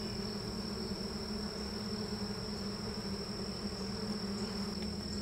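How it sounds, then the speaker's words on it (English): Honey bees in a horizontal hive give off a steady, dense buzz that fills the space close by, with no pauses and no voices. "Lots of bees."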